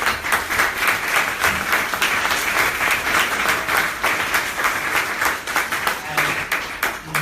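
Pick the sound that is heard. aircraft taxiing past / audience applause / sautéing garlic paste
audience applause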